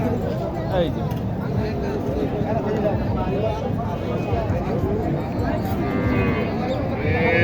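Cattle at a village livestock market in Naogaon, Bangladesh, with cows and calves lowing intermittently amid the busy crowd noise. People talk throughout, and the talk often covers the moos.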